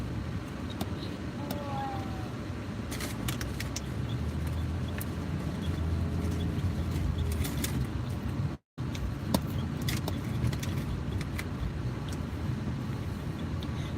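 A car in Saturday road traffic, steady low engine and road rumble from inside or near the vehicle, continuous and moderately quiet, with faint clicks and light knocks over it.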